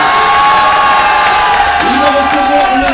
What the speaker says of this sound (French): Vos applaudissements pour Kevin Vauquelin.